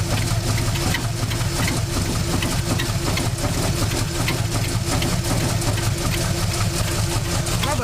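A 1947 Cadillac Series 62 with a 350 flat-head V8 idles steadily and loudly up close, its even rumble unbroken throughout.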